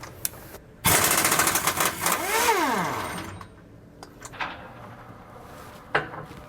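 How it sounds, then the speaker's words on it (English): A 1-inch impact wrench removing tight 21 mm bolts from a Ford chassis, heard as one loud hammering burst with a whirring pitch sweep, followed by quieter clinks and handling noises. "We're going to be using a 1-inch impact to get these off"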